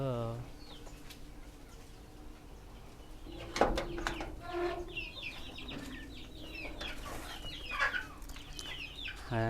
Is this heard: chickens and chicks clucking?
yes